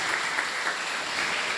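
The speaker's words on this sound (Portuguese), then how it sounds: "Mais forte o aplauso." Congregation applauding at an evening church salvation campaign service, a steady, dense wash of clapping that holds at an even level throughout with no voices over it.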